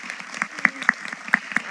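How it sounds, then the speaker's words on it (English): Brief, sparse clapping at a school board meeting, just a few hands striking in an uneven rhythm of distinct sharp claps, close and moderately loud, with no talking. "I, for one, just want to applaud the one student that's here"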